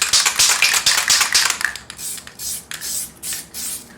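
A spray paint can is shaken hard before stencilling, its rattle coming as quick rhythmic bursts, close and loud, pausing briefly before another run of steady shakes.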